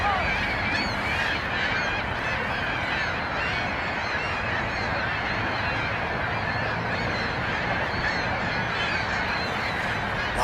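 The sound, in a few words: geese honking on the water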